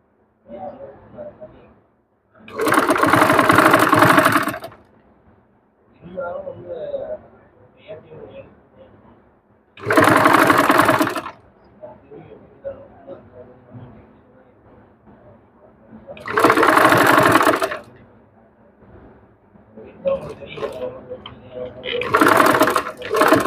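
A sewing machine stitches a V-neck design with lace in three loud bursts of rapid whirring. Someone speaks quietly between the runs.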